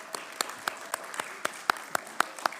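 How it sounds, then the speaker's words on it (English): Sparse, distinct handclaps ring out at an even rhythm, about ten claps in under three seconds, as a university celebration audience at UW Tacoma applauds students in a reverberant room. "So can we give the students a round of applause,"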